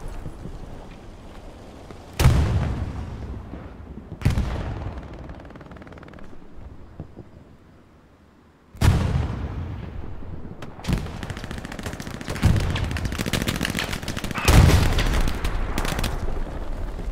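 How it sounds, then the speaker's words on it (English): A video game firefight brings a grenade blast and gunfire, heard as several sharp, booming bursts spread across the stretch, some followed by rattling rapid fire, with quieter gaps between them. "Oh no, what was that? A grenade."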